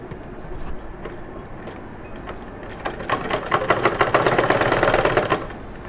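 A sewing machine stitching a baby frock, starting with a few light clicks and short runs, then a loud, rapid, steady needle chatter for a couple of seconds before stopping.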